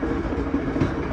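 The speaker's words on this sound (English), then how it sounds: "We're aboard via rail train 693 headed from Winnipeg, Manitoba Union Station to the polar bear capital of the world, Churchill, Manitoba." VIA Rail passenger train 693, running from Winnipeg to Churchill, Manitoba, rumbles steadily with a dense clickety-clack of wheels on the rails, heard from inside the car.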